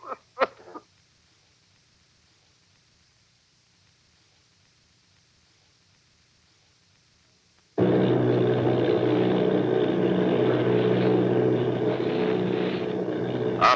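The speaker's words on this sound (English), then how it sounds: "Army bombing plane V-843 off Bayonne, New Jersey." Steady droning roar of army bomber plane engines in a radio drama, bursting in loud and continuous after a long near-silent stretch, preceded by a few brief sharp sounds.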